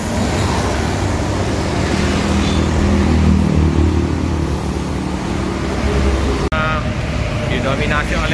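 Buses pass along a busy road, a continuous rumble of engines and traffic noise with a brief sharp knock near the end, while someone commentates over the passing vehicles.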